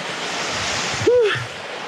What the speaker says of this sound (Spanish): Chequen cómo está el río, los charquitos.